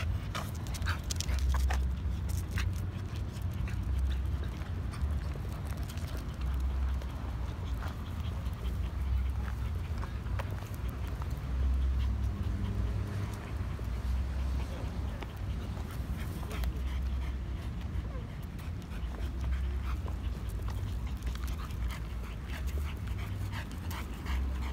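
A small dog pants and shuffles around nearby during an outdoor walk, with steady low background rumble throughout and occasional brief movement noises.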